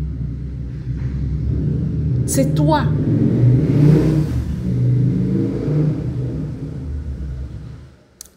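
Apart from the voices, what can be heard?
cars passing on a nearby road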